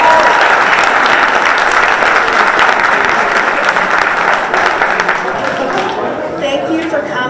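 An audience gives a loud, sustained round of applause for a speaker named Pam at a conference event. Dense clapping fills the whole stretch and thins slightly toward the end.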